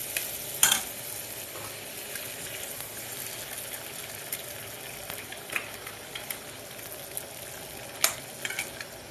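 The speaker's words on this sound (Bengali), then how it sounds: "এবার এটা ভালো করে লাল লাল করে ভেজে নিচ্ছি, গন্ধটা নেড়ে নিচ্ছি মশলা।" Spices and onion fry in oil in a pan until reddish, a continuous soft sizzle with occasional sharp clicks and taps of a spatula stirring.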